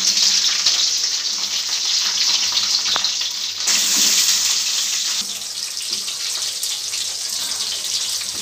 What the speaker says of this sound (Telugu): ఇప్పుడు ఫ్రై చేసుకుంటున్నాను.